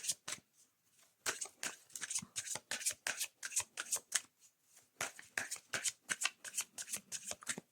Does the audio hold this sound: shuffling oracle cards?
yes